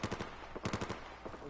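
Rapid bursts of automatic gunfire rattle out in quick, closely spaced volleys during a Battlefield 4 military-simulation basic training exercise, loud and punchy with brief pauses between strings of shots.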